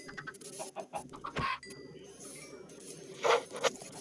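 Minecraft chickens give short, soft clucks in a few scattered bursts, with a brief clink and a louder chirp near the end over a quiet background.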